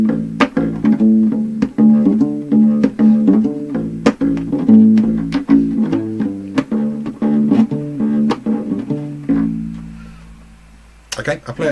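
A bass ukulele plays a quick repeated fill of plucked low notes moving from root to fourth, fifth and twelfth, each figure ending in a held note before silence and a short closing sound.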